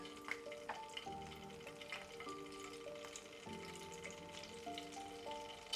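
Floured meze pieces frying in hot oil for a Turkish meze, a steady close sizzle with crackling bursts and a clinking, tonal background running throughout with no talk.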